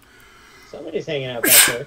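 A single sharp sneeze bursts out near the end, close and loud, right after a person speaks.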